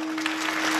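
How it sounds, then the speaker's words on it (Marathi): A kirtan audience claps in a brief, steady wash of applause, with a constant electrical hum underneath. "वाजवा टाळ्या मोकळ्या."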